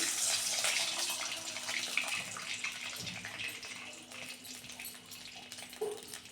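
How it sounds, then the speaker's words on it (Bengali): Water pours steadily for making dhokla, a continuous soft gushing rush that fades slightly toward the end, with one small clatter, fairly faint and without talk. "এবার আমি জল দিয়ে দিচ্ছি বন্ধুরা।"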